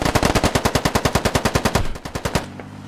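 Gunfire from the video game Squad: a loud, close burst of rapid automatic shots in an even rhythm, about twenty rounds, ending in a quieter tail.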